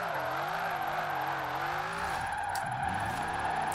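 Holden car on race tires in Forza Horizon 4 with rear wheels spinning, a steady loud engine drone and continuous tire squeal that wavers in pitch throughout.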